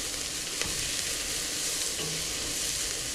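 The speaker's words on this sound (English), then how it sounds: "I'm just gonna stir it around a little bit, give it a little bit of heat" Onions and garlic sizzle steadily in a hot pot while a spoon stirs them, for a chowder being cooked. A dense, constant frying hiss runs throughout and stays close, with faint scraping from the stirring and no talking.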